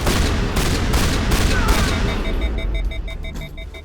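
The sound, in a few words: shotgun fire in the video game Mass Effect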